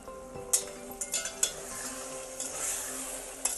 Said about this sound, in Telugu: ఈ లోపల కూర మగ్గే లోపల ఒక్కసారి వంకాయలు కలుపుదాము